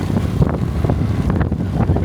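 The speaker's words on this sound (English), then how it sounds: "it's so windy today" Gusty wind buffets the microphone with low rumbling roars in Anjuna, North Goa, India, under a faint murmur of voices.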